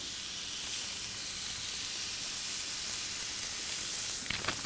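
A thick burger patty sizzles on a hot griddle with only one burner lit, giving a steady, loud hiss throughout, with a few sharper crackles and pops near the end.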